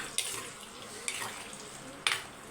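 Eggplant fries in oil with a soft, continuous sizzle, broken by about four sharp clinks of a utensil against the pan.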